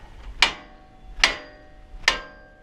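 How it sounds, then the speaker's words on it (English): A hammer strikes the steering knuckle of a Toyota Tacoma to break the ball joint loose during an upper control arm install: three sharp metallic hits, evenly spaced and close, each ringing briefly. "You just hit that with a hammer a few times. It should pop loose."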